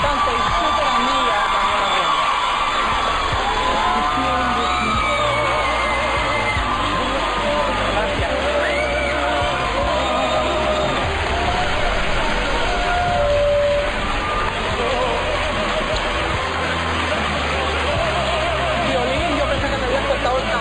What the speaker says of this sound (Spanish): Vamos a darle una fuerte bienvenida con un fuerte aplauso a la primera actriz, cantante y súper amiga